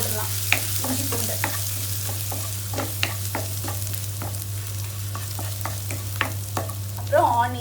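Ginger garlic paste crackles in hot oil for curd rice, with irregular sharp pops and stirring scrapes over a steady low hum and no talking.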